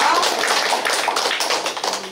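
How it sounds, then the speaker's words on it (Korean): An audience at a public debate event applauds to welcome a speaker, dense continuous clapping that stays loud and even throughout the short stretch, close and filling the room. "박수로 맞이해주세요"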